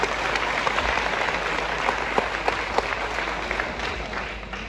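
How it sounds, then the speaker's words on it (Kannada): An audience applauds at a stage event, with dense, steady clapping from a crowd sustained throughout and a few sharper individual claps standing out. "ದೊಡ್ಡ ಚಪ್ಪಾಳೆ ಮೇಲೆ"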